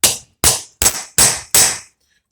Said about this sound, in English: I'm going to drive it down with my hammer to make a nice formed round